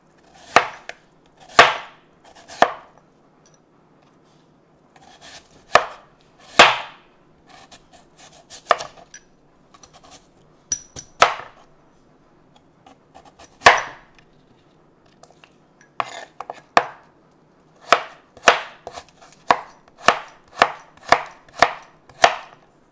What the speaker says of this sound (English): Now I'm gonna go ahead and cut them.